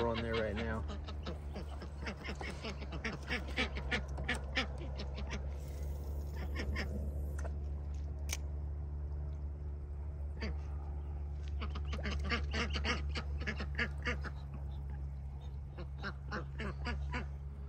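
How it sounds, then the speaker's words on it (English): Ducks quack repeatedly, close by and fairly loud, at a fishing spot, mixed with people talking and a steady low hum underneath. "You got ducks from every angle coming at you."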